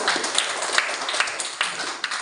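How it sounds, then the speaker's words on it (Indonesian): A classroom of students claps for a group after its presentation, a brisk, fairly dense patter of hand claps with sharp individual hits, close and steady throughout without talk. "tepuk tangan dulu untuk kelompok 1"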